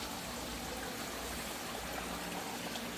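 Creek water flowing steadily past, a continuous close rushing burble that fills the whole moment at an even level with no voices.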